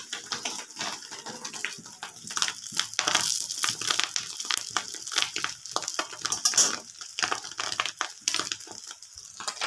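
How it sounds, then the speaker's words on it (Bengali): Rohu fish roe frying in hot oil in a pan, giving off dense, continuous crackling and sharp popping that stays loud and steady throughout, with no voices. "না আবার বিশাল ফাটছে, ফটফট ফটফট করে দেখো।"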